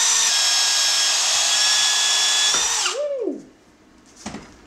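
A power drill whines loudly and steadily while boring through a full-size rubber hockey puck, then winds down with a falling pitch as it stops; a brief rustle follows.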